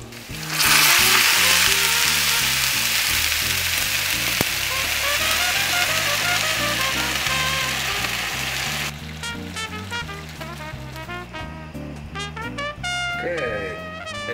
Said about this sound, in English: now I'm going to put the broth and the tomato all at once